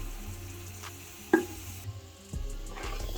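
Beef paya for Lahori bong paye frying in a pot, with a quiet sizzle, a sudden metallic clink of a spoon against the pot and a couple of scraping stirring sounds, and no voice over it.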